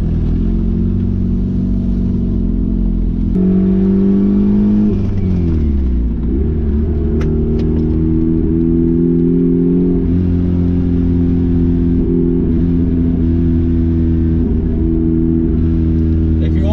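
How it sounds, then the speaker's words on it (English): The turbocharged Mazda Miata's engine, with a suspected feed line problem, runs loud and close throughout, its pitch rising and falling as it revs and drives, with a steady low rumble underneath. "I'm driving my car again."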